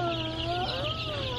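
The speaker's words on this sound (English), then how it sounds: "It's a chicken." Chickens kept under a heat lamp give a continuous, fairly faint run of high, wavering calls with steady background noise and no talking.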